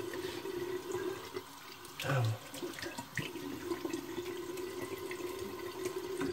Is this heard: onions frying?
no